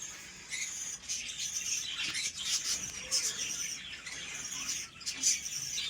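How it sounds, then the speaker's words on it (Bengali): Cockatiels and budgies in a flying cage chirp and squawk continuously, a busy overlapping chatter of tweets from a flock close by. "পাখিগুলো কত সুন্দর ফ্লাইং কেজে ছাড়া আছে।"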